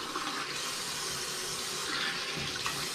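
Water runs steadily from a filtered kitchen tap, a continuous close splashing and gurgling flow at moderate volume with no speech.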